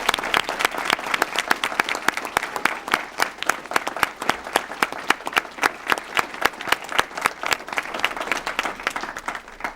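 Sustained audience applause at a public school board meeting for three honorees, many hands clapping steadily and evenly for about ten seconds, moderately loud with no speech over it.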